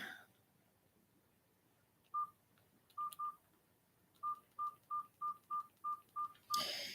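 A telephone number is dialed: a series of short keypad tones, one, then a pair, then a quick run of seven, close and clear over faint room hiss, ending in a brief burst.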